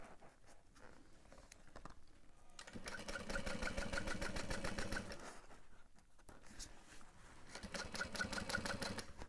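A sewing machine back stitching a half-inch seam on a bag panel, running in steady rapid needle chatter at close range, with brief slowdowns and restarts between bursts and no speech.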